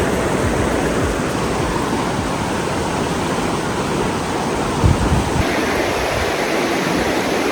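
Steady rushing water fills the scene, a broad continuous roar of the muddy Virgin River flowing nearby outside Zion, Utah, with no voices.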